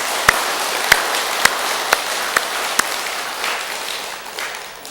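A Buddhist temple congregation applauds during a dharma talk, a handful of distinct claps standing out over a dense hissing wash of crowd applause that fades toward the end.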